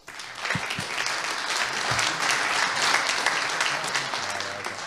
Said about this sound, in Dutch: Geeft u ze een applaus.